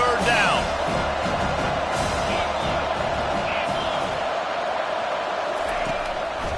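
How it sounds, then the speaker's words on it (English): A football stadium crowd roars steadily during a third-down defensive stand in a Miami game, a dense continuous wall of cheering and whooping from start to finish with a commentator's voice woven through it. "Decibels rising as the crowd gets behind this defense on 3rd down."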